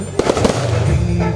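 Fireworks burst overhead at the annual festival of a Sri Kaliamman temple, with a few sharp cracks followed by a loud, continuous rumbling roar of explosions.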